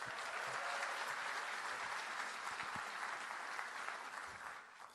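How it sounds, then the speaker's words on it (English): Sustained audience applause at a school district recruitment and hiring event in a high school, heard from a distance as an even wash of clapping that slowly tapers off. "a huge round of applause to our gracious host, Principal Cotter of Sharpstown High School"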